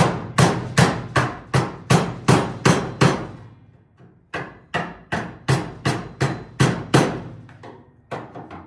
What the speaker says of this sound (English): that's why I'm hammering